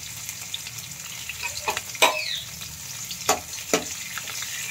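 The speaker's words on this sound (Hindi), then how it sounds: "तड़का लगभग मेरा तैयार होने वाला है, एकदम करीब आ गया है।" Hot oil sizzling steadily in a pan with garlic, close by, with a few sharp crackling bursts popping through the frying hiss.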